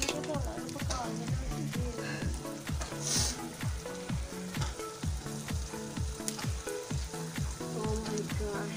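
Chicken frying in a pan, a loud continuous sizzle with repeated rhythmic stirring scrapes, close by, with faint voices now and then.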